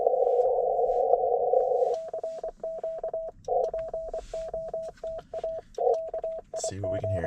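Morse code CW tones from an amateur radio station during a Parks on the Air activation: a steady tone, then a rapid run of keyed dots and dashes, clear and up close, ending with a brief thump.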